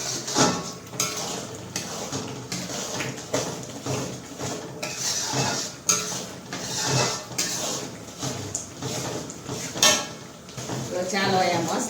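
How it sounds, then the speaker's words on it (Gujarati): Crushed peanut powder and sugar are stirred in a pot with a metal spoon, giving repeated clinks and scrapes against the pot in an uneven rhythm, close by, with some voice-like sound in the background. "અને માંડવીના દાણાનો ભૂકો નાખી હલાવશું આપણે."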